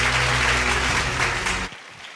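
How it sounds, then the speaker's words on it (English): An audience's round of applause greets a guest stepping up at a Ghanaian talk-show event, the clapping dense and steady for under two seconds before cutting off sharply into quiet room noise. "With a resounding round of applause, welcome, Maximus Ametorgoh."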